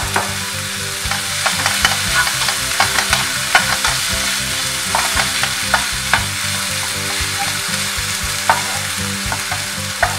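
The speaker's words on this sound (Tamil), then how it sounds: "தக்காளிய நல்லா வதக்கிக்கோங்க" Tomatoes and onions sauté in a pan for onion chutney, a loud, steady sizzle with regular spoon strokes scraping the pan every second or so, close up and uninterrupted by speech.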